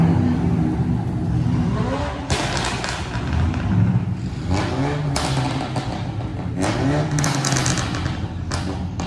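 Car engines rev at a college auto meet, with throaty bursts of acceleration rising and falling several times over a busy outdoor crowd, close by and loud, while people talk nearby.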